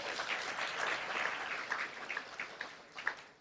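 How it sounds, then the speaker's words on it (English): An audience at a women in manufacturing awards gala dinner applauds, a soft, fairly distant patter of many hands that swells briefly and then thins out toward the end. "Please clap for them."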